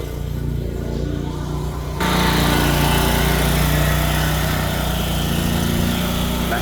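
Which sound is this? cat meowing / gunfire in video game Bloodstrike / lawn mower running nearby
lawn mower running nearby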